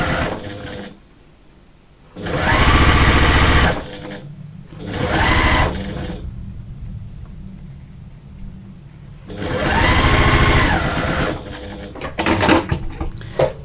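A sewing machine stitches piping onto a Maysen bag in three loud, steady bursts of rapid whirring, separated by quiet pauses and small handling clicks.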